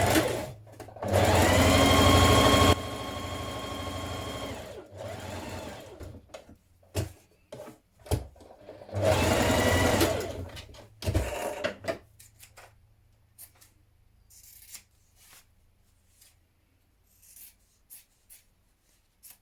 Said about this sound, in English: we're going to top stitch close to the edge.